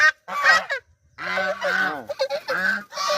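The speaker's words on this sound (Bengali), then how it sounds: "দেখছো হাঁসগুলো?" Loud, harsh honking calls from ducks in a village come in several bursts, nasal and repeated, with short pauses between them and no talking.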